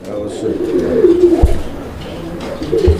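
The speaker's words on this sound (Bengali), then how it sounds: "এটা বোম্বাই কবুতরের একটা পেয়ার" Low, soft cooing from a pair of Bombay pigeons close by, a rolling murmur repeating over a few seconds, with faint thumps and a voice in the background.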